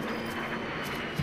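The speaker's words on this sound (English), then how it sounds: "I hear a chopper." Helicopter passing overhead in the video game Arma, a steady broadband engine and rotor roar held at an even level for a brief moment with no voices.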